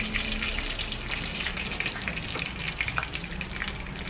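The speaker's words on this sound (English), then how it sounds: "From the oil, dry the piece now, then drain the oil." Hot frying oil draining off freshly fried chicken pieces, a steady bright crackling sizzle with a watery trickling quality, continuous and close throughout.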